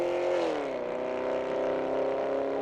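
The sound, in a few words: race cars driving on the circuit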